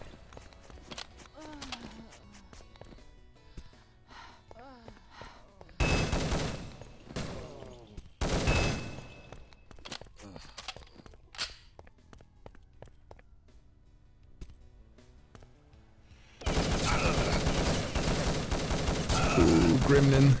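Shotgun gunfire in a competitive video game match: several loud, dense bursts of shots stand out against quieter stretches of game sound, with a heavy sustained barrage near the end.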